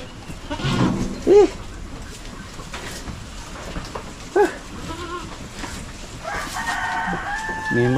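A pregnant pet goat bleats several times, loud and close, with short wavering cries standing out against farmyard background noise that also carries a rooster's crowing.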